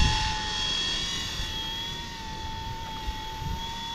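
A small Eachine E120 RC helicopter flies nearby with a steady high-pitched rotor and motor whine holding a constant tone, loud and alone.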